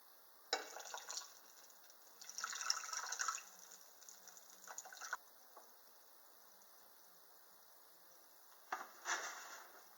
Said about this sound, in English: I'm going to add some more water to that.